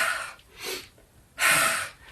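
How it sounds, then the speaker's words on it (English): Slow yoga breathing at close range: three breaths alternating inhale and exhale, each a soft airy rush, the last one the loudest and longest. "So the little breath addition is going to be inhale, exhale, inhale,"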